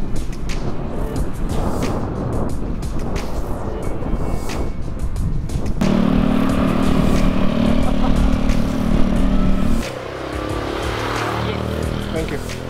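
Traffic roars steadily as a motorbike taxi rides through busy streets in Bali, with a sustained engine drone in the middle before the noise drops slightly.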